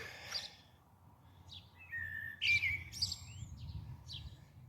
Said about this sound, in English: Scruff, those birds annoying you?